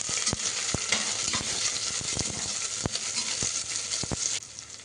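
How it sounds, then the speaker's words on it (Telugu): Onions fry in oil and ghee with bay leaves, cinnamon, cloves, star anise and mace for vegetable khichdi, making a constant dense sizzle broken by sharp scraping strokes of stirring. "తర్వాత ఆనియన్స్ వేసి బాగా మిక్స్ చేయండి."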